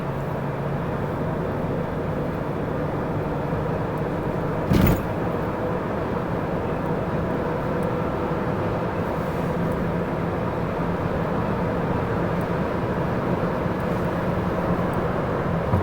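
A 2006 BMW E90 325i with its six-cylinder engine pulls steadily under acceleration, a continuous loud drone heard from inside the car, with one brief thump partway through and no talk.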